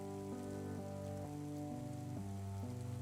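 Steady rain falls in a dense, even hiss that never lets up, mixed with a low, sustained droning musical tone whose pitch shifts a few times.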